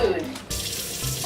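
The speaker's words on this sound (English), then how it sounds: "Let's put these over by the sink because we have to wash potatoes." Tap water running into a kitchen sink as potatoes are washed, a steady close rush of water with a brief dip in the middle.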